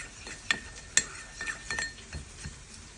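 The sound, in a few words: mixing turmeric into oil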